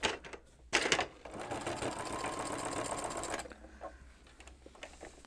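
A sewing machine stitches fabric for a tea wallet, starting with a couple of short bursts and then running in one steady, rapid whir for about two seconds before stopping; close and clear with no talking.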